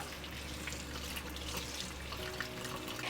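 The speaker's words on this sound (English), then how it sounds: "Dump your dandelions in the colander and rinse that with cold" Cold tap water runs steadily over dandelion flowers in a colander, a continuous close splashing rush.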